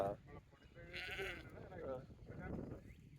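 Sheep bleat on a farm in Canada, wavering calls close by, mixed with people talking.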